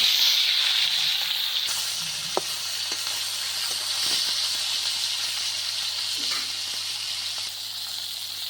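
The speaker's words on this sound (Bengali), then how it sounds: "গরম তেলে মাছ ছেড়ে দেব।" Rohu fish sizzling in hot oil in a village kitchen, a steady loud bright hiss that runs without pause, with faint pops and spatters scattered through it.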